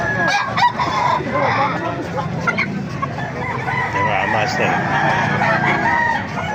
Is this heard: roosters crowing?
yes